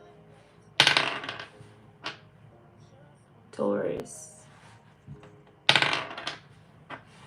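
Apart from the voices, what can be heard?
dice being rolled and dropped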